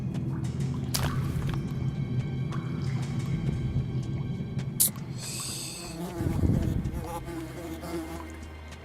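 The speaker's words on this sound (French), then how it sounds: "les mouches ils arrivent à me grimper sur les yeux" Flies buzz around the player character in the video game Metro Last Light, a steady insect drone under a low rumbling game soundscape, with a few sharp clicks and a deeper swell near the end.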